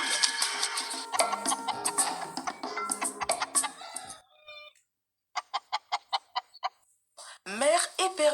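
Hen clucking as a sound effect in a French children's story: a busy stretch of clucks and squawks, then a short even run of sharp clucks, and a final rising cackle, close and fairly clear.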